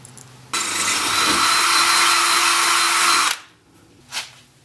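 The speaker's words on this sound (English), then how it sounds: "So I'm going to drill these out." A power drill drills out holes for 1/4-20 bolts, whirring loudly for about three seconds at a steady high pitch, then stops, followed by a brief faint knock.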